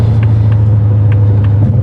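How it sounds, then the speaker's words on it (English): Supercharged Mustang GT with a Gen 4 Coyote V8 cruising on the highway, its exhaust holding a steady low drone with a harmonic tone, loud and continuous throughout. "exhaust tone with a nice harmonic that comes from this Gen 4 Coyote"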